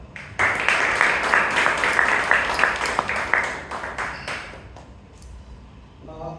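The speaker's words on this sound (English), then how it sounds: "Let's have one more round of applause for Toastmaster Smita." Audience applause at a Toastmasters club meeting in Bangalore, a burst of clapping that starts abruptly, holds for several seconds, then thins and fades toward the end.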